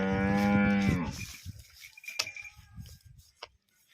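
A brown and white Holstein Friesian cow, close to calving, lets out one long, loud moo up close, followed by scattered shuffling and small knocks in a quieter barn.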